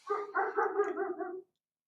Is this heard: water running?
no